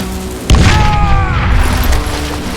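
A single loud gunshot booms from the Western shooter Call of Juarez: Gunslinger, a sharp blast followed by a rumbling tail.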